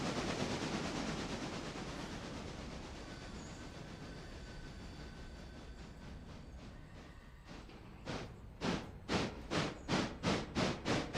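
Train in the Railroader game rolling along the line on automatic, a steady rumble that gives way to a rhythmic, loud clickety-clack of wheels over rail joints in the final seconds.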